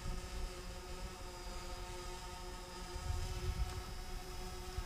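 A Yuneec Typhoon H hexacopter drone hovers and drifts nearby, giving a steady, continuous whirring buzz of multiple propellers with faint swells in loudness and no voices.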